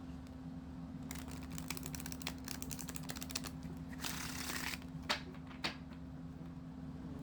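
A Cosmic Parenting oracle card deck is shuffled by hand: quiet, rapid clicking flurries of cards, a denser riffling burst near the middle, then a few single taps, over a low steady room hum.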